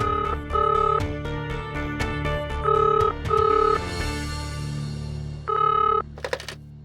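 A telephone rings in repeated short electronic bursts, rhythmic trills with pauses between them and faint background noise, no voices.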